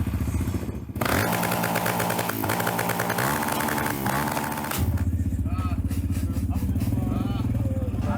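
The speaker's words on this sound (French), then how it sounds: "mesurent encore le bruit de leur pot d'échappement" Tuned car exhausts at a car meet snarl and rev loudly nearby, with a sustained engine drone that builds, then a sudden change to rapid popping and crackling, and crowd voices underneath.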